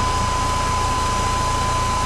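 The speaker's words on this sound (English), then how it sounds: "let's just do the exhaust tone" A car exhaust idles steadily at close range, a low even rumble with a thin, constant whine riding above it.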